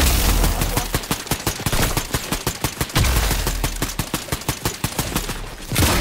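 Rapid automatic gunfire from the video game Fortnite rattles off in long, loud, evenly spaced bursts with a brief pause midway, with no talking over it.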